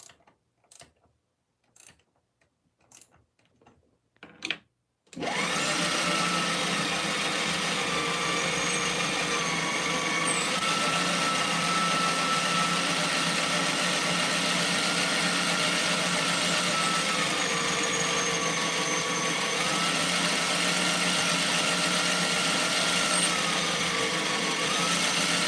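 Brass workpiece being drilled on a metal lathe with a drill bit held in the tailstock; after a few seconds of quiet tapping, a loud, steady mechanical whir starts and runs continuously to the end.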